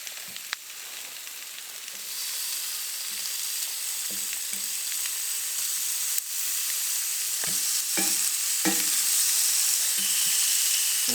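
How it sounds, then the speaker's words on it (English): Steak and vegetables fry in a pan on a woodstove inside a hot tent at minus twenty degrees, giving a steady close sizzle and hiss with occasional scraping stirs and taps of a utensil and no talk. "I want to cook the meat last, so I'm just going to push all the veggies to the one side"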